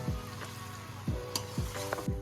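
Jackfruit curry is stirred in a hot pan, with a constant close sizzle broken by several rhythmic scraping strokes of the spoon.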